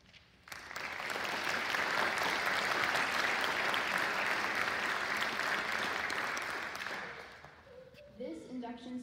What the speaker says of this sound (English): we would like to recognize them and thank them for their commitment to scholarship and their devotion to character with a round of applause